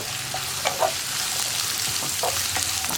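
Onions and slant-cut green chillies sautéing in a pan for a chickpea roast, a constant hissing sizzle with a few soft spatula scrapes and taps and no voices.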